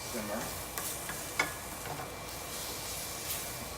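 Beef and mushroom sauce with white wine bubbling and sizzling in a pan, a steady close hiss with a few brief stirring scrapes and small pops throughout.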